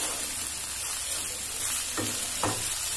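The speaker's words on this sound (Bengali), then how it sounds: "ভালো করে আমি নেড়ে নিলাম।" Cheese, soya and egg roll filling stirred in a hot pan, a steady sizzle with two short scraping strokes of the spatula near the end, close and alone without talk.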